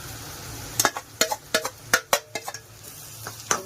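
Roasted semolina goes into a pan of upma seasoned with turmeric and asafoetida, followed by a quick series of sharp metal scrapes and clinks from spoon on pan, about a dozen in irregular rhythm over a faint sizzle.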